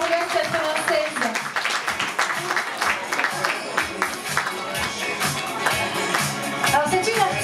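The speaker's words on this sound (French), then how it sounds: "On peut l'applaudir encore." An audience applauds during the 30th-anniversary evening of the Miss Bourgogne committee at a château, with sustained clapping that swells and ebbs and voices mixed in throughout.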